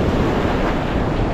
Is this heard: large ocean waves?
yes